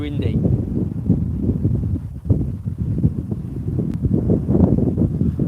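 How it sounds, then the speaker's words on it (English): Strong wind buffets the microphone on a riverbank, a continuous low rumbling roar with gusts, while someone talks over it throughout. "But it is really windy here"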